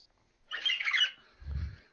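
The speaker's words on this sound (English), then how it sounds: "That sounds like a bird." A bird gives a short harsh squawk, followed a moment later by a lower, duller call or thump, both brief against near silence.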